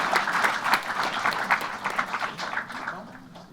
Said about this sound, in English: Please give them a round of applause, all of the partners.